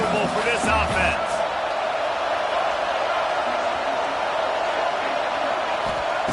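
Steady roar of a stadium crowd in a Madden football game, a broad sustained wash with a few brief shouts near the start, under a commentator's talk.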